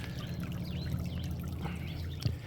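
Water trickles steadily from a small garden fountain outdoors, a continuous soft pouring and dripping close by, with faint bird calls in the background.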